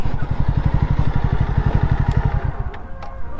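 A friend's motorcycle engine runs steadily and close by in Doddaballapur, with a rapid, even putter that loosens near the end while faint clatter comes through over it.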